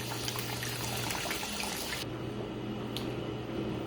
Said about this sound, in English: let's wait until it reaches the ideal water level